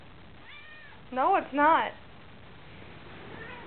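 A house cat meows indoors during a winter storm, two loud, rising-and-falling calls in quick succession, with a person's voice speaking softly just before.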